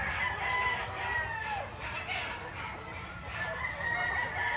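Boston Millionaire gamefowl rooster crowing at a distance, faint drawn-out calls against a soft background with other fowl clucking nearby.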